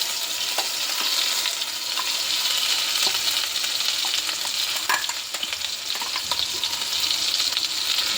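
Onion, tomato and cashew paste sizzles and fries in a hot pan, a steady close hiss with scattered crackles and stirring clatter, no talking.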